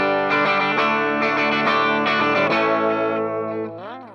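A Maybury T-Type electric guitar with Tone Rider Hot Classics pickups, run through a FuZR fuzz pedal that is switched off into a Boss amp on its clean channel, strums a few ringing chords that sustain and fade with a final pitch slide.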